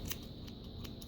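Scissors snip through hair during a layered haircut, giving four crisp, light metallic cuts at a steady pace, close by over a constant background hum.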